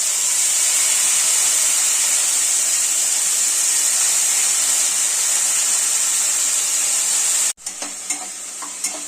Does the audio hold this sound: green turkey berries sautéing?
yes